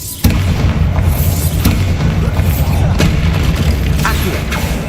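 Bombarda spell explosion in the Hogwarts Legacy video game: a loud, sustained deep boom that erupts suddenly and rumbles on, with a few sharp crackling bursts over the top.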